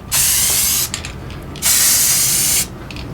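Two long, loud bursts of spray paint from an aerosol can, each hissing steadily for about a second, separated by a brief pause with faint rattling.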